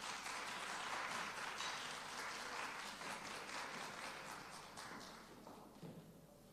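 Audience applause fills a conference hall, dense steady clapping from many people that slowly thins and fades toward the end.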